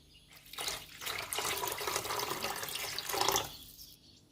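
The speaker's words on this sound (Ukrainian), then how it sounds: "Я наливаю холодну воду" Cold water pours steadily into a pot for a few seconds, a close, full rushing splash that swells and then tapers off.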